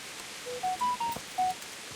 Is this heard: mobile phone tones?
yes